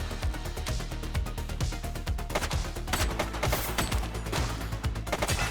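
A suspect firing a gun in the video game The Precinct, with many rapid sharp shots in uneven bursts that keep going loud and close.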